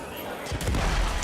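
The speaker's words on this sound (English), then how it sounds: "Craig can show off the hyper cannon. Yeah, it's pretty devastating." Hyper cannon firing in the game Rage 2: a single heavy, booming shot erupts about halfway through, its low rumble ringing on close and loud after a quieter lead-in.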